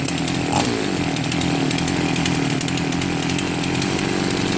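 A chainsaw engine runs steadily at high idle, set too fast before the carburetor's L and H screws are adjusted; a loud, continuous buzzing drone with no pauses and no voices.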